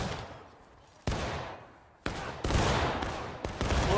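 Musket fire in a Civil War battle game at Fox's Gap, sharp scattered shots cracking near and far in an uneven independent volley, each trailed by rolling echoes.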